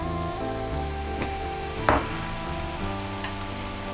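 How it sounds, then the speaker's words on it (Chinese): Cabbage pancakes fry in hot oil in a pan, giving a continuous close sizzle with one brief clatter partway through as the pieces are turned. "这个面呢，我们尽量是翻个2次，这样的话可以让它煎得更酥脆一些"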